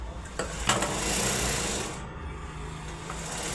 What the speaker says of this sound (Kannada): ಫಸ್ಟು ಕ್ರಾಸ್ ಇರೋದನ್ನು ಕಟ್ ಮಾಡಿ ತೆಗಿಯೋಣ